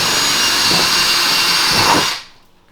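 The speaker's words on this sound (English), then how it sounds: "I'll cut the holes for all of the lights that are going to be going around here" A power tool whines steadily and loudly up close while cutting light holes in an aluminium ceiling panel inside a vintage Avion camper, then winds down and stops.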